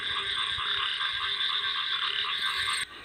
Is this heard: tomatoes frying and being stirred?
no